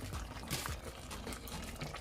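Water poured into a cooking pot while preparing curry chicken, a steady low watery rush and trickle running throughout at moderate level with no talk.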